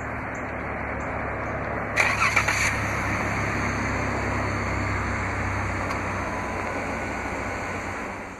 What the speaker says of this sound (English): To operate is easy, just double press the remote start button on the key fob.